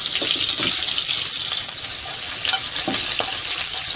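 Shallot and scallion whites hitting hot oil in a wok for stir-fried rice noodles, a loud close sizzle and crackle running throughout with small spatters, no voices.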